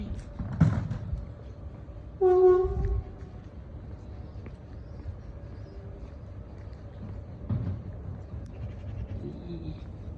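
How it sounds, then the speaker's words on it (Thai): A distant train horn sounds once, a steady tonal blast lasting under a second, over a low outdoor rumble with faint background noise, by the sea at Calella, Catalonia, Spain. "เสียงรถไฟ"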